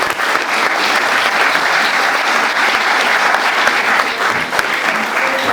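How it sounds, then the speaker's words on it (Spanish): Lecture audience in Vigo applauding a visiting guest, steady loud clapping from a full hall with a few distinct sharp claps standing out, continuing evenly for several seconds. "Un aplauso para él."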